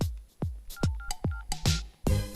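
A rapid series of electronic key beeps and clicks, like buttons pressed on a mobile phone, ending in a brief burst of noise.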